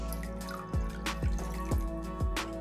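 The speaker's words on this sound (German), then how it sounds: "Und jetzt kommt ein bisschen Wasser mit rein, um das Ganze einfach zu verdünnen." Water drips into a soy sauce and fish sauce dip for summer rolls, falling in a steady series of distinct plinking drops about every half second, close by and clear, with no talking.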